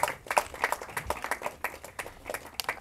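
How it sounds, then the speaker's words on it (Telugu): An audience at a film press meet claps in a brisk, uneven burst of many hands, steady and moderately close across the whole stretch, with no voices. "సో ప్లీజ్ అందరూ ఒకసారి గట్టిగా క్లాప్స్ కొట్టేద్దాం"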